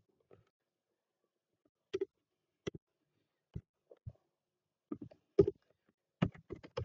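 Sparse keyboard clicks while code is typed on a computer, soft close taps arriving singly and in short bursts with long quiet pauses, quickening toward the end.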